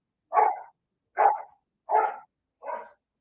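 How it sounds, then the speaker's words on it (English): A dog barks four times at an even pace, each bark short and clear against silence. "You hear that dog barking?"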